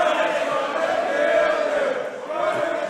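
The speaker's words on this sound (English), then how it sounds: "Listen to this from the crowd in Manchester. They are chanting, Primate's gonna kill you" A wrestling crowd in Manchester chants in unison at a hardcore-rules match, a dense, sustained roar of many voices holding steady and filling the arena at moderate loudness.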